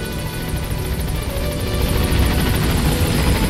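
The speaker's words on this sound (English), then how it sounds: "The helicopter is here." A helicopter is heard up close, its loud steady rotor and engine roar filling the whole clip with a rapid rhythmic chop and no talking.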